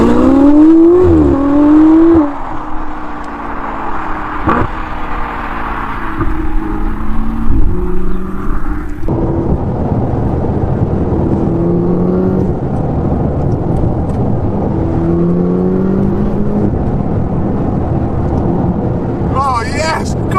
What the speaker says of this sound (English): You can hear the turbos like, I love that.